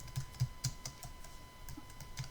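Keys on a computer keyboard are struck in a quiet, irregular patter of soft clicks, close up, while a date is entered in Microsoft Word.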